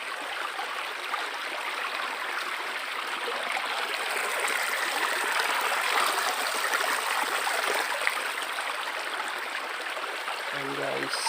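A stream flows steadily at a riverbank, making an even, moderately loud wash of rushing water throughout.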